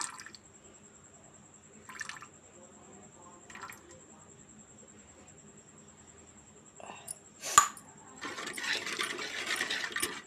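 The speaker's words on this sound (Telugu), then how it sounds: "ఇందులోనే నిమ్మరసం వేసుకోవాలి" Lemon juice is squeezed and dripped into a cooled murrel fish (korramenu) pickle mixture, with a few faint, spaced wet drips and squishes in a quiet kitchen, a louder splash, then a soft continuous trickle.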